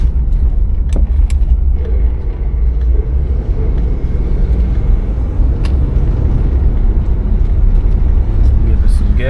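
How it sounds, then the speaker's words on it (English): A 1990 Cadillac Brougham engine running on the road, a loud continuous low rumble under steady road noise with a few faint clicks. "Motor sounds good. I don't hear any ticking. I don't hear any belt squeal."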